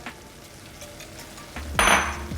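Bacon is tipped back into a pot for carne en su jugo; after a quiet moment it bursts into a loud, close sizzle with a clatter of the pot in the last second.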